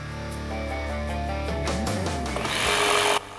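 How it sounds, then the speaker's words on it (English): A jigsaw fitted with a long blade cuts through 3-inch-thick wood slabs. It gives a loud, steady motor whine with a buzzing, rising and shifting tone, ending abruptly as the cut finishes. "I had to use my jigsaw with a long blade because my skill saw wasn't large enough"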